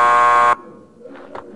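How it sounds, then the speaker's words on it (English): A loud flat electric buzzer at a door in the Max Payne 2 video game drones for about half a second and then cuts off, leaving faint room tone and a few soft thuds. "Just press the buzzer by the door"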